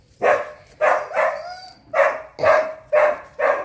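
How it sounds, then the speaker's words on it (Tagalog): Seven sharp dog barks in a steady, evenly spaced rhythm, fairly loud and close, with a faint high whine between two of them. "maingay yung aso."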